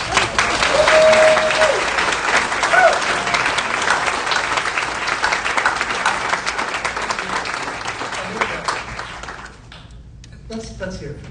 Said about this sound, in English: Let's give a warm welcome to Mr. Patrick Dempsey